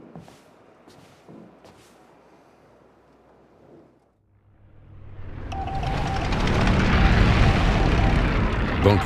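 A propeller airplane's engine in the video game Indiana Jones and the Great Circle swells from near quiet into a loud, steady drone, preceded by softer ambient sounds.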